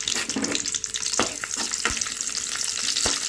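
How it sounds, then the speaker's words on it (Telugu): Onions fry in hot oil with a loud, continuous sizzle, broken by a few sharp scrapes and taps as they are stirred in the pan. "ఆనియన్స్ అయితే బాగా ఫ్రై చేసుకోవాలి"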